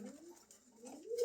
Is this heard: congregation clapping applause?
no